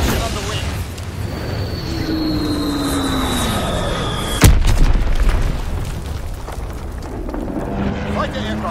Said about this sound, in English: Blitzex bomb is on the way.